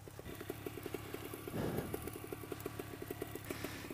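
A paramotor trike engine runs up before launch, a small engine thumping in a fast, steady pulse and briefly surging in the middle, heard faint and from a short distance.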